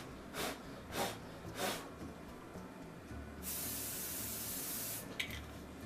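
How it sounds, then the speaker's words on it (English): Mold release sprayed from an aerosol can onto a silicone mold: three short hissing bursts, then a long steady spray lasting about two seconds, ending with a brief final puff. "then I'm going to spray the mold release really quickly"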